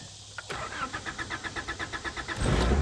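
A 1985 Honda Accord engine is cranked with fresh fuel: a steady run of rhythmic starter cranks, about a dozen evenly spaced pulses, then the engine catches and rises into a louder, rougher running roar at the end.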